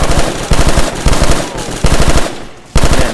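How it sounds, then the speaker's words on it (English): Rapid machine gun fire in Call of Duty Black Ops 2 Zombies played in VR: loud, close bursts of rhythmic shots separated by short pauses, with a voice talking over it. "Man, this gun has a lot of recoil,"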